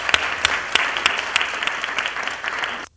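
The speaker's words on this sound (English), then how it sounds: "one more round of applause for our judges" An audience at a nonprofit awards event gives a round of applause for the judges, brisk clapping with a few sharp standout claps, steady and fairly loud for about three seconds before cutting off abruptly.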